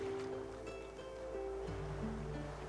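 Ocean waves in the Divinity: Original Sin 2 video game, a soft continuous wash of surf heard faintly at a distance under a low ambient musical drone, with no voices.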